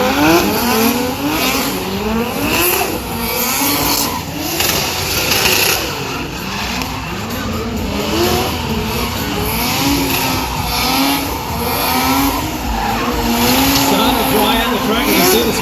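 Drift cars at a Hot Wheels drifting show at MotorEx, engines revving hard and wavering as the rear wheels spin, loud and continuous with rising and falling engine pitch throughout.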